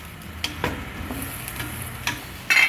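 Boiled carrots and potatoes stirred in a cooking pot, faint close scraping and sloshing strokes with a light sizzle underneath, a few distinct clinks near the end.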